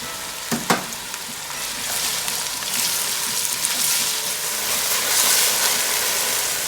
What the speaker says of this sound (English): I'm going to start sweating my mirepoix. That's my carrot, my celery, and my onion.